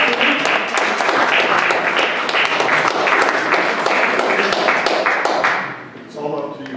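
Audience applause after a lecture: a dense, loud wash of many hands clapping steadily for several seconds, then fading out as a voice begins speaking.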